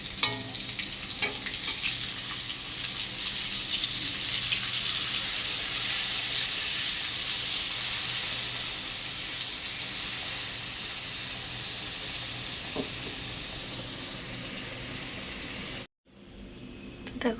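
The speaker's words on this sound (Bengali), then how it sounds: "এবার এটা ভালো করে ভাজবো সর্ষের তেলে।" Food coated in spices frying in mustard oil, a loud and continuous sizzling hiss with a few crackles that holds steady, then stops suddenly near the end.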